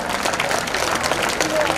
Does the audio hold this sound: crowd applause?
yes